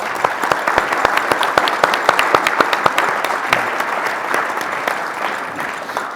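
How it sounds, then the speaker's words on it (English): A round of applause from an audience at a Boston College CEO Club event honoring Warren and the staff: steady, dense clapping with sharper individual claps standing out, sustained and fairly loud throughout. "So I'd just like to give Warren and the entire staff a round of applause"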